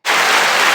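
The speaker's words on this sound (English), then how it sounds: "Let's clap it up for that." Podcast listeners clapping to celebrate a host's move, a dense burst of applause that starts abruptly and stays loud and steady throughout, with no talking over it.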